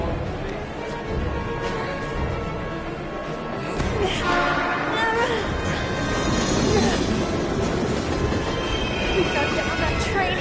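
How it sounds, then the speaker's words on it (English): A train in the video game Heavy Rain rumbles past on the tracks, a loud continuous roar and rattle of wheels that swells toward the end, with no speech over it. "We've got to get on that train, Ethan."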